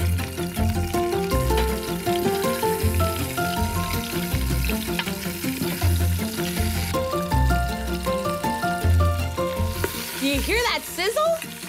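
Chicken for a sweet and sticky dish sizzles steadily in a hot pan while it is stirred, a constant crackle running the whole time beneath background music.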